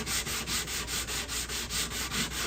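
Sandpaper rubbing across a cedar guitar top in steady back-and-forth strokes, about five per second, close and even, with no voices.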